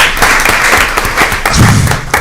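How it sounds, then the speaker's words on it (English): A board of education meeting audience breaks into dense, loud applause that holds steady for about two seconds, with a few heavier thuds mixed into the clapping. "That deserves such a round of applause."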